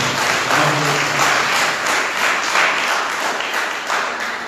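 A church congregation claps steadily and loudly during a Sunday service sermon, a dense, continuous patter of many hands with faint rhythmic pulses and no talk over it.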